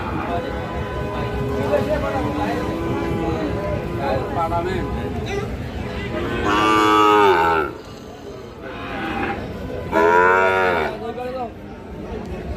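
Sahiwal bull calves at a busy cattle market, with a few loud, drawn-out moos rising above continuous crowd chatter and voices.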